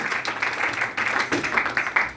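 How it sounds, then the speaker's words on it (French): A church congregation at a Sunday service applauds together, a dense, steady clatter of many hands clapping at close range with a few voices mixed in. "Let's applaud for the Lord Jesus."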